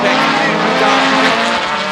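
Rallycross race car braking hard into a corner at Kymiring, a loud roaring engine with tire noise close by, with a commentator talking over it.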